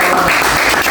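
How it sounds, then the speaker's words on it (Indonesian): Brief burst of loud, dense audience applause at a student talk show, close and steady throughout. "Tepuk tangan lagi gak sih?"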